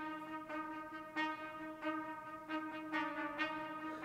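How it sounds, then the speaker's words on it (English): A light staccato trumpet line in an orchestral arrangement of a song plays short detached notes over sustained strings, soft and fairly distant. "I had this sort of trumpet staccato thing that I wanted to happen during the bridge"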